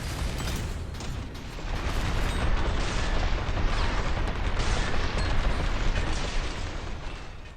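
A mech's machine gun fires in Armored Core 6 as dense, rapid bursts of booming shots layered with mechanical clatter, loud and sustained through most of the stretch, with no voices.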